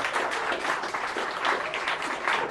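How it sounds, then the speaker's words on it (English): An audience at an Irish supporters' club gathering in London applauds, a steady close round of clapping that stays even for a couple of seconds. "Any applause for that one?"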